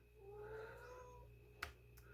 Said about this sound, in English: I don't know if you can hear Prissy's meowing in the background.